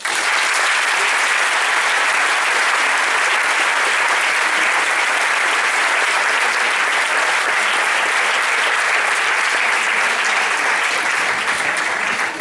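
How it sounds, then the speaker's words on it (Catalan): Sustained, loud applause from a large audience at a secondary school graduation ceremony, dense clapping holding steady for about twelve seconds with no talk over it. "Un bon aplaudiment per a tots ells."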